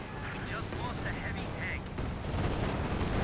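Artillery and gunfire rumble through a Company of Heroes 2 battle, a dense, continuous low roar of distant blasts and shots that swells louder toward the end.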